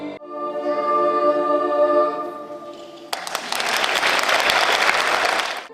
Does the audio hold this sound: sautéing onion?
no